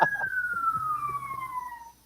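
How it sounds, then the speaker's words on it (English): An emergency vehicle siren sounds outdoors on a major north-south road: one wailing tone sweeps steadily downward for about two seconds, fairly close and clear, with no talk over it. "Who's got the siren outdoors?"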